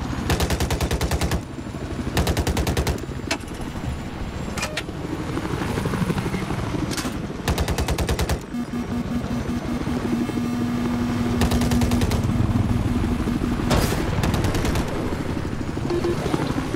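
Heavy gunfire in Battlefield 4 rattles in repeated loud automatic bursts over a constant helicopter rotor drone, with short pauses between volleys.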